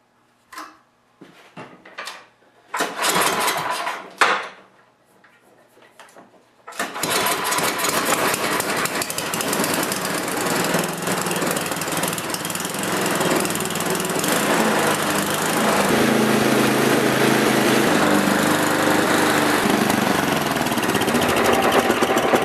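An MTD snowblower engine in a shop is pulled over a few times with sharp sputters, then catches and runs steadily, loud and close, with a continuous rough drone that climbs slightly in speed toward the end.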